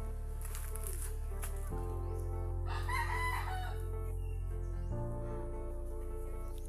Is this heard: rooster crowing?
yes